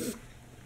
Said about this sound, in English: excuse me, you guys, in all my videos I cough.